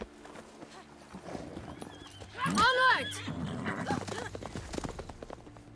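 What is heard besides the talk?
horse hooves clip-clopping, from video game The Witcher 3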